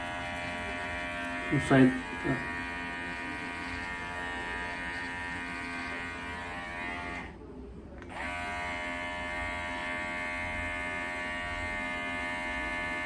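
Electric hair clippers fitted with a 4 to 6 millimeter guard buzz steadily and close up throughout, with a brief pause partway through before the motor resumes. A short spoken remark is heard early on.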